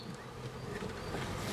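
Honeybees buzz steadily inside a hive where the colony is building queen cups, a dense continuous hum that stays even and moderately loud throughout, with no voices.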